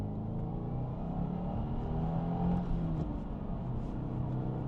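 A 2025 Subaru WRX tS pulls away hard in Sport Plus mode, its engine a steady, close, loud low rumble and whir rising in pitch under acceleration.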